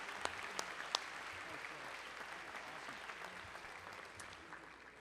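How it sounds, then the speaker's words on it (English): A school awards night audience applauding a jazz ensemble, a soft, distant, even clatter of clapping with a few sharper claps early on. "Let's give him another round of applause."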